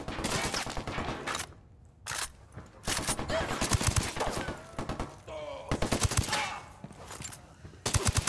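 Submachine gun fire in Ghost Recon Wildlands: repeated loud bursts of rapid automatic shots with short pauses between them, close and dominant, with a few faint vocal sounds in the gaps.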